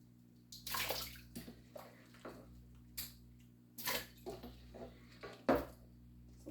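Carrots dropped and stirred in a bowl of ice water, giving several short splashes and sloshes at irregular intervals, quiet and close, over a low steady hum.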